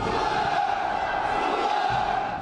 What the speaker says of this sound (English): huge crowds took the streets in Pyongyang, raising their fists in anger at America